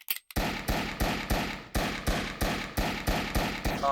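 Pistol fired one-handed in a video game, about eight loud sharp shots at a steady, rapid rhythm, each with a short decaying tail, alone without talk.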